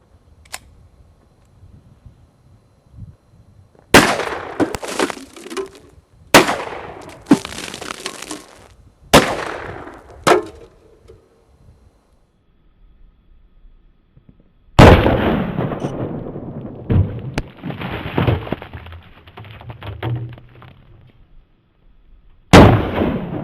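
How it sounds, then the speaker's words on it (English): Just Right 9mm pink carbine firing at cans outdoors, one with full metal jacket and one with Black Talon rounds: about four sharp, loud separate shots with ringing decay, then a louder crack followed by clattering debris and another shot at the end. "I'm going to shoot this first can with a full metal jacket, then I'm going to shoot this second can with a black Talon."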